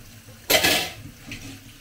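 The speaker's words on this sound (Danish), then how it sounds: "Jeg skal lige vaske op, så jeg kan lave mad." Dishes, pots and pans being washed up in a home kitchen: a single sharp clatter of crockery and splashing water rises close and loud, then settles into quieter kitchen noise.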